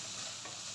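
Vegetables and onion being sautéed and stirred in a pan, a brief, soft, steady sizzle and hiss with no voices.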